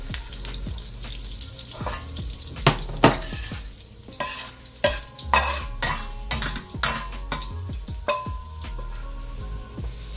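Vegetables frying in oil for restaurant-style beef chow mein: a steady sizzle with repeated sharp scrapes and clinks of a spatula stirring in the pan, close and fairly loud, no talking.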